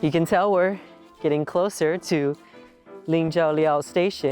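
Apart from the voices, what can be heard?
No distinct noise like a dog, phone or traffic.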